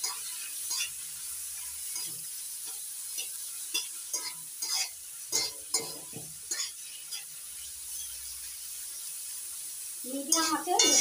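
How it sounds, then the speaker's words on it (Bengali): Prawns coated in salt and turmeric sizzle and fry with onion, garlic and chili in a pan, a steady soft crackle with intermittent stirring scrapes, while a voice talks quietly over it. "চিংড়ি মাছগুলো নুন হলুদে মেখে নিয়েছি, এবার লাল করে ভেজে নেব সব সঙ্গে।"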